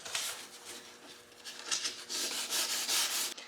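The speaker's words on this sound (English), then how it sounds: "Now that I'm done sanding this area," Hand-sanding a car fender with 400 grit sandpaper before paint, a soft, airy scratching rub in uneven back-and-forth strokes, close and fairly quiet, growing more vigorous toward the end.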